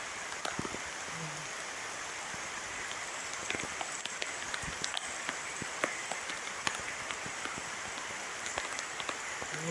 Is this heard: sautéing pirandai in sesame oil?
no